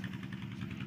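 A motorcycle engine idles close by, a steady low rumble with an even throb that runs throughout the short stretch and has no voices over it.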